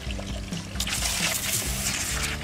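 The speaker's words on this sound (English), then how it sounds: "This water is actually running into the carburetor right now" Water from a hose pours and trickles into the carburetor of a Craftsman 6.75 HP 21-inch push mower, a steady close-up gush over a low hum that continues for the whole stretch.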